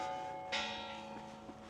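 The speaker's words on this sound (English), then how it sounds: "lovely church bells there." Church bells ring at a quiet coastal spot in Portugal, a faint, steady sustained tone with one soft strike, heard from a distance over low background noise.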